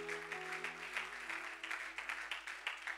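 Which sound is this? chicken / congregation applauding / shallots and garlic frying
congregation applauding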